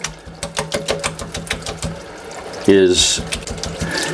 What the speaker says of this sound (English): So now I'm gonna give it a final rinse, get the water going.